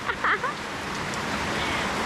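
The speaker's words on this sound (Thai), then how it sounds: "ฝนตกพี่น้อง" Rain falls outdoors in a steady, soft hiss that builds slightly over the moment, with a brief voice or clatter at the start.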